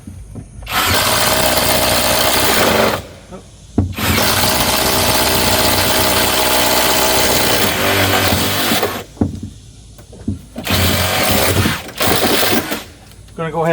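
A power drill bores holes for electrical wiring in a two-story dog house, whirring loudly in several bursts of a few seconds each with short pauses between them.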